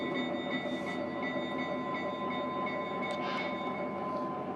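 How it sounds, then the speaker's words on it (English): A Lionel Burlington Zephyr toy electric train whirs steadily along its track, a continuous motor hum with faint rhythmic clicking and a high steady whine. "Dispatcher, train is moving."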